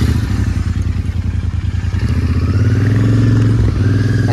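A motorcycle engine drones steadily on the road during a long-distance ride in northeast India, a continuous close rumble with low pulsing beats and no voices.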